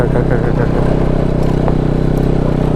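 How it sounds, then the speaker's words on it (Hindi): A motorcycle engine idles and rumbles steadily up close, its low throbbing drone filling the short clip with a faint clatter on top. "बाइक का साउंड हो रहा है"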